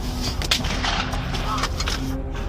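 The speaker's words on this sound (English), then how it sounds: "More shots being fired right now." Gunshots fired during a mass shooting, heard as loud repeated blasts in quick succession over a constant low hum, with a voice faintly present in the background.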